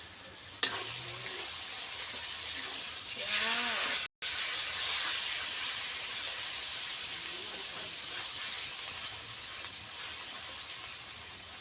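Pangasius catfish curry with torn kaffir lime leaves stir-frying in a pan gives a steady, close sizzle and hiss throughout, broken by a brief gap and a few faint clinks.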